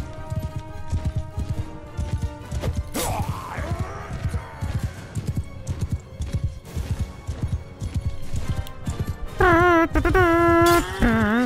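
Horses gallop in the Mount & Blade II: Bannerlord battle by a river: steady clip-clop hoofbeats run through the whole stretch, with a horse whinny and battle noise mixed in, and music or voices swell near the end.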